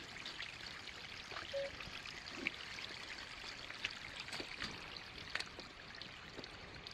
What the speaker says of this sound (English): this looks like probably your best source for water so far. It's running pretty good.